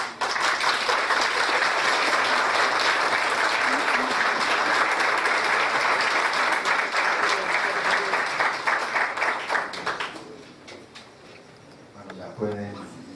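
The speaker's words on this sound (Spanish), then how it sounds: "ofrezcan un gran aplauso a ellos" An audience at a doctoral and postdoctoral graduation ceremony gives sustained, dense applause for about ten seconds, loud and steady, before it fades into scattered claps and background murmur.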